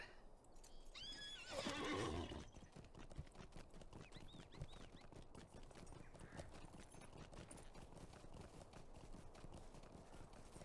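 A horse whinnies loudly near the start, then steady hoofbeats clip-clop at a brisk, even rhythm for the rest of the clip, from the video game The Lord of the Rings Online.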